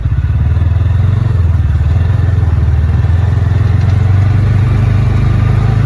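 A CFMoto Uforce 600 UTV fitted with an RNG clutch kit drives along, its engine a loud, close, continuous low rumble with rattling and thumps from the vehicle.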